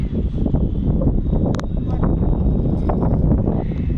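Natural outdoor breeze mixed with air from a fan buffets the microphone in a loud, continuous low rumble, with voices speaking faintly beneath it.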